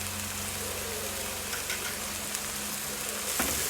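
Chicken with garlic and ginger paste fries on a high flame in a pan, giving a loud, steady, close sizzle with a few faint stirring scrapes and no voices.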